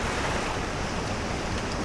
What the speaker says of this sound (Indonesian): dan ini ombaknya tentunya udah tinggi.